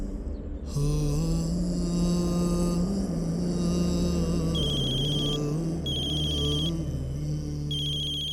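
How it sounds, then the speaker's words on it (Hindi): A telephone ringtone plays steadily over a low sustained tonal bed, with repeated bright melodic chirps recurring in short bursts, fairly loud and close, no voices. "ये लो, तुम्हारे भाई का फोन है, बात कर लो।"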